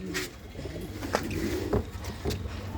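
Pigeons, a red sara male and a black Chinese female, give several soft, close throaty coos in loose succession, with light fluttering and a low background rumble.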